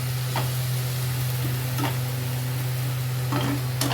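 Spiced oil sizzling in a pan while cooking tel potol (pointed gourd): a steady, soft frying hiss over a constant low hum, broken by a few scraping taps of a stirring utensil.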